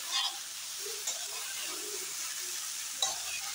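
Cauliflower fries in a pan while being stirred, a quiet, constant sizzle broken by a few scraping knocks of the utensil against the pan.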